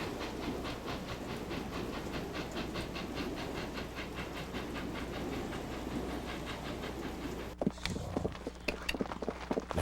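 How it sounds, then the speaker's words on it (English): Cattle cars on a moving train roll along with a steady, continuous rumble and rhythmic clatter, joined near the end by sharper clanks and hissing bursts. "Another train ride."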